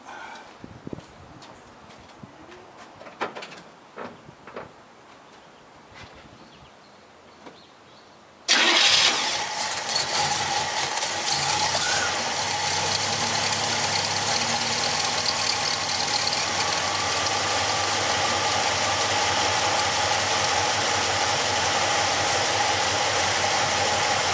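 A car engine cranks and catches abruptly after a few quiet clicks and light handling noises, then settles into a steady, loud idle that runs alone for the rest of the stretch.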